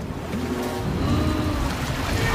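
Ocean water surges in the 1997 film Titanic, a loud, continuous rushing wash like heavy surf that stays close and unbroken throughout.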